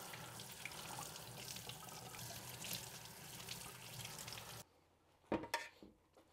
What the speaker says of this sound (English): What we're gonna do now is we're gonna rinse it down under cold water.